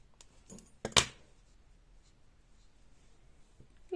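Scissors trimming crochet yarn, one or two quick close snips near the start followed by near-silence.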